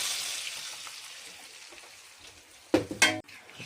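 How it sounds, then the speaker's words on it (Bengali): A soft, steady sizzle of lentils added to hot tempering oil with garlic and chillies fades gradually, then a few sharp clatters of utensils against a pan break in near the end. "এটাতে এখন ছঁকি নেব ডালটা"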